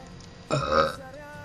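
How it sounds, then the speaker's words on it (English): A single loud, drawn-out burp from someone who just ate a gyro, rising suddenly out of a quiet room and fading after about half a second. "I'm like burping a lot because I just had gyro and my stomach hurts"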